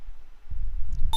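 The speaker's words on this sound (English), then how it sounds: "Okay, now we got the notification here." A short phone push notification alert from a OneSignal message chimes near the end, a brief bright tone over low background rumble.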